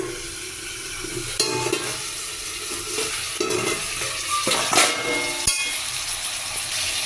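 Spice paste of ground chilli and ginger with a splash of water sizzles steadily in a pan, with scraping stir strokes and occasional sharper clinks of a spatula against the metal, close and fairly loud throughout.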